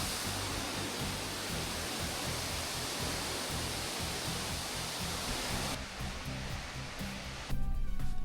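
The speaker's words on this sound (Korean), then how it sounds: "조그마한 동굴 안쪽으로 영화 속에서 볼 법한 환상적인 매력을 가진 폭포가 기다리고 있다" A waterfall inside a small cave in Iceland gives a steady, full, roaring rush of falling water that fills the space, then drops slightly near the end.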